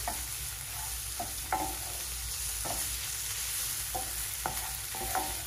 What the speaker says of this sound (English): you just want to fry that up with the green seasoning